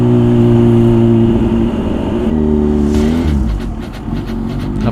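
A naked big bike with ride-by-wire throttle revving up, its engine tone climbing and falling in steady whining harmonics before easing off, loud and close with no talk.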